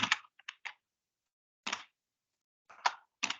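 A computer keyboard is typed on in short, close bursts of crisp clicks separated by brief pauses, with no other sound between the keystrokes.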